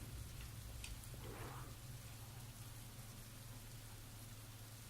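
Rain hisses in a faint, steady wash with no clear individual drops in the video game Fable II, heard indoors, continuous and alone.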